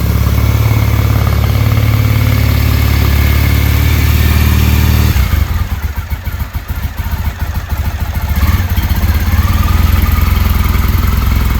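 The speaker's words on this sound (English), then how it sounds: "Parallel twin. It just has that sound." A stock 2006 Triumph Bonneville T-100 parallel twin idles loud and close with a steady, even throb that dips briefly in the middle before settling back.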